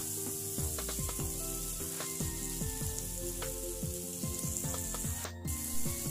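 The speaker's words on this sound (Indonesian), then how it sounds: "Tumis sampai matang dan panas bumbunya" Spice paste sizzling and frying in a pan for a coconut-milk yellow fish curry in a village kitchen, with a steady close crackle and repeated scraping and stirring strokes.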